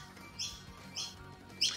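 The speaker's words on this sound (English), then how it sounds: "Yeah, we got birds." Three short, bright bird chirps spaced about half a second apart, moderately near over faint background noise.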